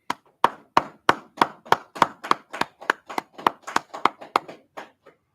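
A congregation claps in a steady, even rhythm, about fifteen sharp, loud, evenly spaced claps, slowing and fading at the end, with no talking.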